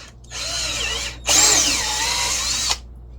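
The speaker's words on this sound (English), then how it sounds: "I'm countersinking the holes." Power drill countersinking screw holes in wooden pallet boards, two close bursts: a short whir, then a longer loud whine with a rising pitch as the bit bites into the wood.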